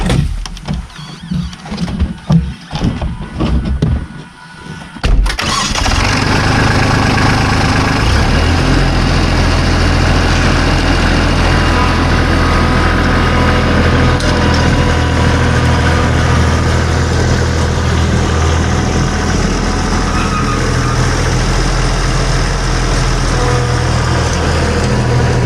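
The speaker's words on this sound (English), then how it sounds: "So we'll get it set on the ground, pull the tractor out." A tractor engine on a ranch starts up after a few seconds of wind and scraping, then holds a loud, steady low idle close by for the rest of the time.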